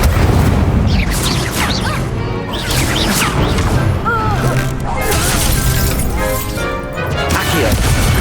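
Incendio fire spell bursts in the video game Hogwarts Legacy: repeated crashing, booming impacts and shattering crackles over a dense, continuous layer of battle effects and voices.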